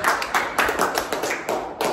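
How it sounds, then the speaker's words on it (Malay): Schoolchildren clap for a classmate named Nasrin in a classroom, a short burst of scattered, uneven hand claps at moderate volume with no talking. "Berikan tepukan kepada Nasrin"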